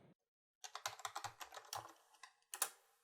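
Someone types a password on a computer keyboard in a quiet room: a quick burst of a dozen or so close, crisp key clicks, then a short pause and a final firm keystroke.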